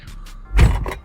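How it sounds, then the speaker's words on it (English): A Dodge Challenger R/T with a 5.7L engine has its door opened, a single close thunk with a short mechanical rattle right after, heard near and alone. "open the door"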